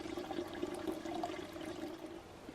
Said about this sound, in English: I think I'll just get my water right there out of that spigot